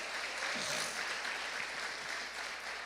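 A church congregation applauds during a sermon, a steady broad wash of clapping held at a moderate level throughout without a clear break.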